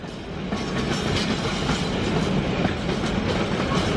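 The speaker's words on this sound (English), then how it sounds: "now I get a freight train as well" A freight train rolls through a station, a steady rumbling roar with rhythmic wheel clatter that holds at a moderate distance for the whole stretch.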